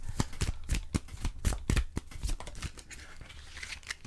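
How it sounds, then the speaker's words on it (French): Oracle cards are handled and drawn from a deck, giving a soft, close series of quick papery flicks and slides that thin out toward the end, with no talking. "je vais tirer 3 cartes de l'oracle"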